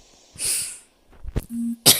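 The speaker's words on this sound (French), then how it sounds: "excusez-moi pour les reniflements" Several short nasal sniffs and snorts, close to the microphone, with quiet pauses between them and a brief tone near the end.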